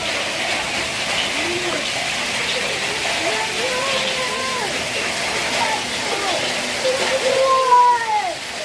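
Steady heavy rain with hail hisses throughout, with someone talking over it and his voice rising louder near the end.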